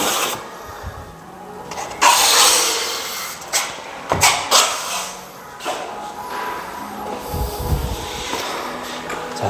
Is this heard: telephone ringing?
no